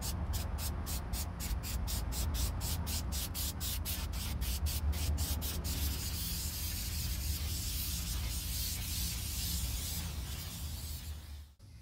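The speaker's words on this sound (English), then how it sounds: "you wanna spray the adhesive on." Spray adhesive (fabric glue) hissing from an aerosol can onto a Mazda Miata door card, with rapid pulsing bursts at first and then a steady continuous spray, close and loud.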